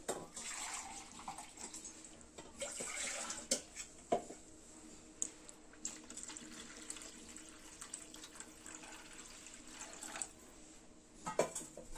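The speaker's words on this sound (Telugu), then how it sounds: "కొంచెం వాటర్ వేసుకుందామండి. ఇప్పుడే వేసుకోవాలి." Water poured into a cooking pot of fish curry with tamarind and spices, a faint continuous splashing pour with scattered soft clinks and knocks, no talking.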